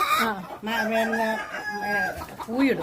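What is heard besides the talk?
chickens clucking in a coop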